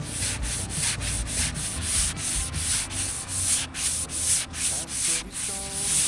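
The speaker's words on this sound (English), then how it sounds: "I went over it once more with a large sanding block" A large sanding block rubs back and forth across a boat's cabin top in quick, regular strokes, close and continuous, with no talking.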